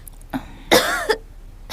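A short, raspy cough from someone chilled after a long time in cold air: a faint catch, then one harsh, close cough with a brief trailing rasp.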